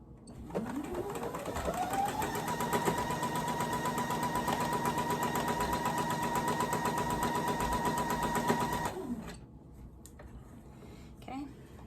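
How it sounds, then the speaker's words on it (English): A sewing machine stitches a dream pillow, whirring up to speed and running a fast, even hum for about eight seconds before winding down and stopping. A quiet room follows. "we're gonna sew down and then pivot and sew across and pivot and sew back up"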